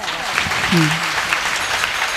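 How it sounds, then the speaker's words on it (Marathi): Audience clapping at a kirtan gathering, a dense steady patter of many hands throughout, with a voice speaking briefly over it. "सगळ्यांच्या सहकार्याने एकदा सगळ्यांकरता यांच्या टाळ्या वाजवा"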